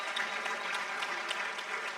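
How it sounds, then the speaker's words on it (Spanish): An audience at an international panel on rural women's groups claps together in a continuous, moderately distant round of applause that stays even throughout. "Fuerte ese aplauso."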